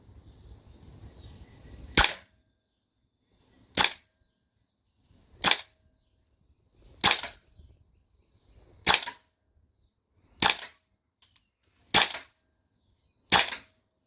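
Airsoft gun on an HPA adapter (T8 or Airtac MWS setup) fires single shots, eight sharp snapping cracks spaced about two seconds apart, loud and close, with near silence between them.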